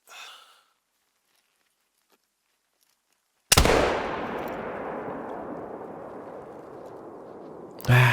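A single loud rifle shot fired at an animal in the hunting game theHunter: Call of the Wild, cracking sharply out of near silence and leaving a long rolling echo that fades over several seconds, followed by a brief soft exhale.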